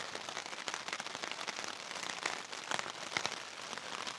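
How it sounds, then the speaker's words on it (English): Steady rain patters on a tent pitched on soft sandy ground during a long overnight downpour, a dense close drumming with scattered sharper drop hits throughout and no talking. "it has now been raining like this"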